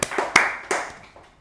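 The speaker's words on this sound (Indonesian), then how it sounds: "Beri tepuk tangan yang meriah untuk Ibu Iba Mutiah, Ketua Divisi Hukum dan Pengawasan KPU DIY." A few sharp hand claps from an audience at an Indonesian talk-show event ring out in a sparse, uneven burst, fading quickly with no talking.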